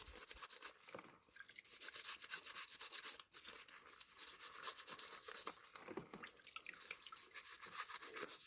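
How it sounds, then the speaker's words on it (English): Stiff bristles scrub rapidly back and forth over a plastic 1956 Ford Victoria model kit part stripped with Purple Power, a close, continuous wet rasping with brief pauses and no talking. "So just scrub all that real good."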